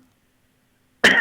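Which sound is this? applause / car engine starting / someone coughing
someone coughing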